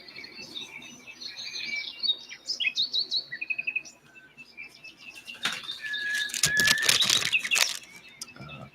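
Wild birds at a backyard feeder on an overcast day, including cardinals, blue jays and finches: repeated bright chirps and calls with bursts of wing flapping and rustling, moderately close, no voices.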